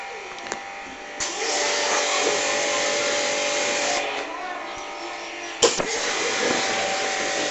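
A pressure washer sprays water on a motorcycle during cleaning, making a loud, continuous hissing drone with a few sharp clacks partway through.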